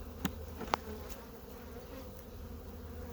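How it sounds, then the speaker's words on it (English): Honeybees hum faintly in an opened hive with a small, weak colony during an inspection, a soft continuous drone with a couple of brief clicks and no voices. "Very few bees in that side, or in this side here."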